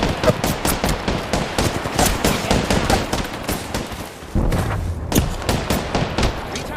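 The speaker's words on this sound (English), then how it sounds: "The enemies are shooting at me." Enemy gunfire in the Apex Legends video game: dense rapid bursts of automatic shots crackling almost continuously, loud and close, with a brief lull before firing resumes.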